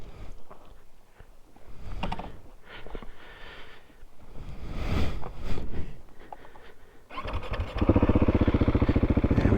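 A 2024 KTM 690 SMC R motorcycle is ridden along back roads, its single-cylinder engine rising and falling in uneven bursts. It swells to a loud, steady drone near the end.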